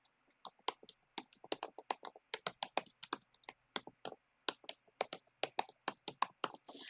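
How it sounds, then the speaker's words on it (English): Fast typing on a computer keyboard during a live sewing session, a steady run of crisp close-up key clicks with short irregular pauses and no talk. "I'm going to type it in here for you."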